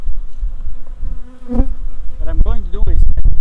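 Honeybees hum in a steady buzz around a large hive at an apiary, with close individual bees darting past and brief handling knocks near the end.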